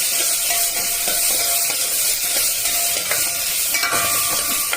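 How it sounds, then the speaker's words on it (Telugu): A tomato and date curry is stirred in a pan, giving a steady sizzle with faint scraping strokes of the spoon throughout and no talking. "ఈ ఖర్జూరాన్ని మనం వేసుకొని దీన్ని కూడా బాగా మిక్స్ చేసుకొని"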